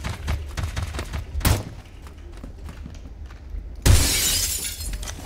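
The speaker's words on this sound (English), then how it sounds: "shooting the glass is just so satisfying" Glass shatters under gunfire in the Roblox shooter Phantom Forces, a loud bright crash near the end after scattered gunshots and thuds earlier, with a strong burst at about two-thirds through.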